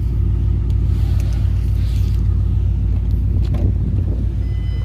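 A 2005 Mustang GT fitted with longtube headers idles steadily and close by, a deep, loping low rumble that holds even throughout with no revving and no voices.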